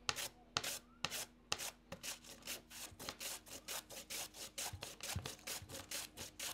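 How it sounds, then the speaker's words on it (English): A peeled green mango being grated by hand, with fast, regular rasping strokes that are close and fairly quiet, repeating steadily throughout. "take your green mango, peel it, and then just grate it"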